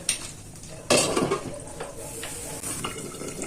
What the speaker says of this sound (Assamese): বাকীখিনি ভালকে মিক্স কৰি ল'ম এতিয়া মই